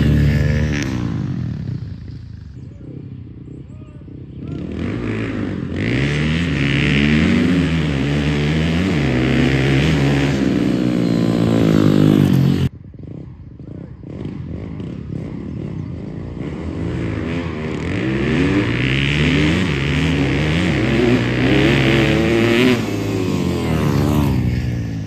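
Honda CRF250F dirt bike with a big bore kit revving hard for a wheelie, a loud buzzing engine note climbing and surging, cutting out briefly midway before rising again.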